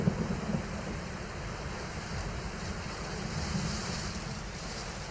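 Heavy, continuous rain falls in Kolhapur, a dense roaring wash of noise with a low rumble beneath, steady throughout with no voices.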